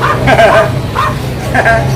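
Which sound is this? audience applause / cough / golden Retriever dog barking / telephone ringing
golden Retriever dog barking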